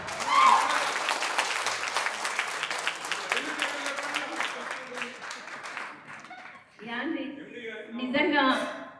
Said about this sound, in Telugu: వా అమ్మా, చప్పట్లతో ఒకసారి చెప్పండి ప్లీజ్